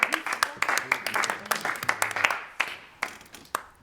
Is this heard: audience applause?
yes